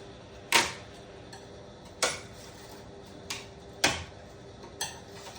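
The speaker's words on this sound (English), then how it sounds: "we'll take a tap or something with like an ice pick or something, and we'll just tap out that little center piece right there" Light metal taps with an ice pick knocking out the center pin of a plastic trim clip on a Volkswagen Beetle, five sharp clicks spaced irregularly, close and fairly faint over a steady background hum.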